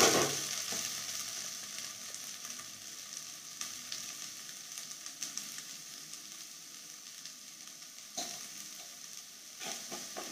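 Onions for egg bhurji fry in a pan over a medium flame, giving a steady close sizzle broken by occasional scraping stirs. No one speaks.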